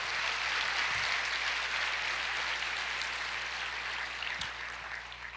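Church congregation applauding together during a sermon, a dense steady wash of clapping hands that holds for several seconds and slowly eases off, no voices standing out.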